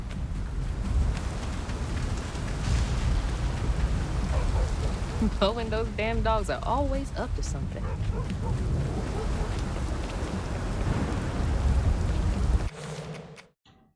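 Steady heavy rain with rumbling thunder fills a rainy scene in the game South of Midnight, while a person speaks a line over the storm partway through before the sound cuts off abruptly near the end.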